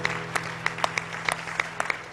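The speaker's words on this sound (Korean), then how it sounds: "우리 아이들을 위해서 믿음으로 축복하는 힘찬 박수 한번 하겠습니다" Congregation at a church prayer meeting claps for the children, a steady crowd applause with sharp hand claps standing out, fairly close and continuous, no voices over it.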